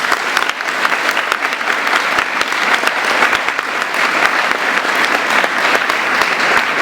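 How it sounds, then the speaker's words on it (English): An audience at a live conversation event with author Neil Gaiman breaks into steady, dense applause that stays loud and full throughout, with a few voices mixed into the clapping. "Let's just have one more round of applause before we start coming"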